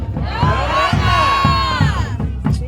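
A festival crowd shouts the Tahitian greeting in unison, a loud, dense roar of many voices swelling over about two seconds, with a few scattered shouts trailing off at the end.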